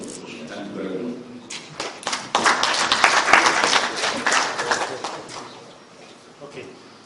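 Audience applause at the close of a talk during a five-day disaster management course for the Nigerian Navy, a broad wash of many hands swelling for several seconds, then thinning and fading out.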